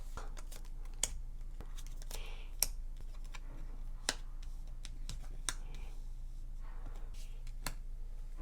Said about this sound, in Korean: 이런 부분에 있어서 바로 카드 좀 뽑아볼게요